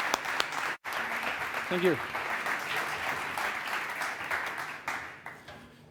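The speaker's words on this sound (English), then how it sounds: "Please, a huge round of applause." A crowd at a conference stage session applauds steadily throughout, a dense wash of clapping, with a brief spoken thanks near the start and the applause fading toward the end.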